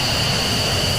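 Jet engines spool up in a VR flight game, engine one and then engine two, giving a steady loud broadband roar with a high whine that stays constant and close, with no voices over it.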